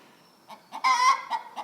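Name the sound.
chicken clucking in the background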